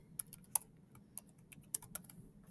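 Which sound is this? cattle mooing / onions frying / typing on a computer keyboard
typing on a computer keyboard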